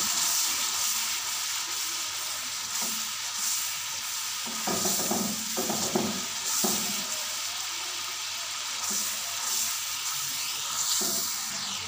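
Potatoes and spices including coriander, turmeric and salt sauté in a pan, a steady hiss broken by spoon scrapes and stirring clatter in the middle stretch.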